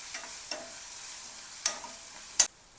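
Ground sesame, niger seed and peanut masala paste being sautéed in a pan, a steady hiss of frying broken by a few sharp spatula scrapes and taps, close by and without any voices.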